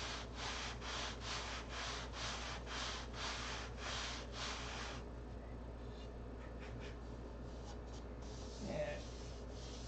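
Balsa sheeting, 3/32 inch thick, sanded on a control-line model stunt plane: about nine brisk, rhythmic rasping strokes close up, then quieter scattered scuffing, with a brief spoken word.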